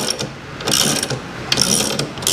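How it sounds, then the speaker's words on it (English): Torque wrench ratcheting on the rear caliper bolts of an Indian Chieftain Roadmaster motorcycle, three or four quick bursts of close, crisp metallic clicking separated by short pauses. "now we're going to torque the rear caliper bolts to 31 foot-pounds"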